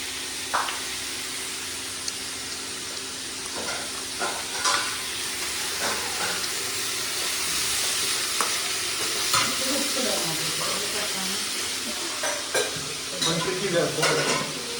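Chopped onions frying in a pan for a Malayali-style fish curry give a steady close sizzle, broken by scraping stirs and light clinks of a spoon against the pan throughout.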